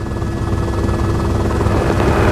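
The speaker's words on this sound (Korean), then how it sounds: "헬기가 무역풍을 만났는데요" A rescue helicopter flies through strong trade winds, producing a loud, constant, close rotor roar with rapid blade chop and dense wind-blasted noise throughout, with no voices.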